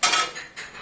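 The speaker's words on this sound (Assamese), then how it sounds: "কাটি আছে কলডিল" Banana flower being chopped in a village home kitchen, heard as a few quick, close scraping and crunching cuts with clinking against cutlery or dishes, fading slightly between strokes.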